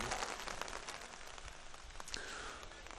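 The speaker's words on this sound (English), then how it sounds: "The rain slowed down for a second, but kind of picked right back up." Steady rain falls on an outdoor softball field at Keene in May, a dense, even hiss of drops with brief spatters, no voices heard.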